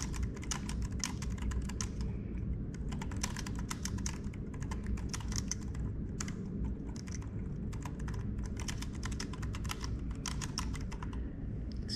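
Keys clatter on an Omoton wireless keyboard paired with an iPad, in quick irregular bursts of light taps over a steady low background hum, with no one speaking.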